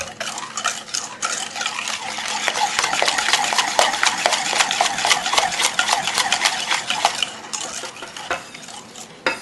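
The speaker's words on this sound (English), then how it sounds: "Try to whisk that up until you don't see any lumps." Whisk beats chocolate lava cake batter in a bowl, a fast, steady scraping and clicking of metal against the bowl, close and continuous with no talking.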